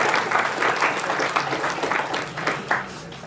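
An audience at a college cyber carnival gives the event crew a big round of applause, steady rhythmic clapping that stays loud and fairly close, with faint voices beneath.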